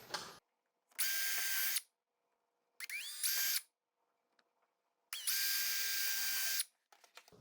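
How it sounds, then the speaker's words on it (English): A power drill pre-drills screw holes in a window frame in three loud, close bursts of high whirring separated by quiet pauses, with a shorter burst ramping up in the middle. "we're going to go ahead and pre-drill our holes to get our screws in."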